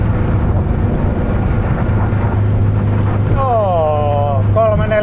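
A small motorboat crossing open sea toward Tallinn drones steadily and loudly in following wind and swell, with rushing wind noise throughout and a brief whistling tone near the end.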